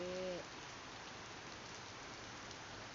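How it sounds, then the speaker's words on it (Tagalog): Steady heavy rain hisses continuously, dense and even, with a brief tonal hum at the very start. "Lakas ang tulo ng ulan"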